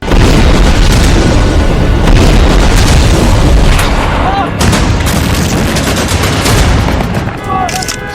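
Bombing and gunfire in war footage from the Israel–Hamas conflict, a dense, loud, continuous roar of blasts and rattling shots that sweeps on for several seconds with a brief dip partway through.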